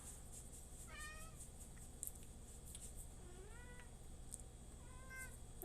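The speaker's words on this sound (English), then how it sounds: "Meow." A cat meows softly three or four times, short rising and falling cries spaced across a quiet room with a faint steady hum and occasional light clicks.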